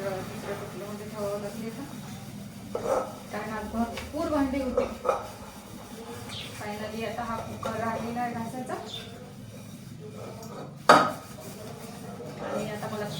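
Dishes being scrubbed in a sink basin, with steady clinks and scrapes of pots and cutlery, a sharp clatter near the end, and talking throughout.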